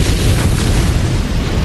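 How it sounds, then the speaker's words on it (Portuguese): A nuclear weapon detonating, heard as a sustained, loud, broadband roar with heavy low rumble that holds steady throughout, like a continuous blast wave. "Quando a arma é detonada"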